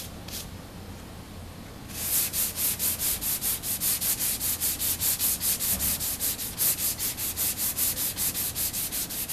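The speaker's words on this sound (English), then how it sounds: "cross sanding, just trying to get it to feather in good" Finish glaze on a car body panel gets hand-sanded with steady back-and-forth strokes, a rhythmic rasping scrape repeating about three times a second, close and loud after a quieter start.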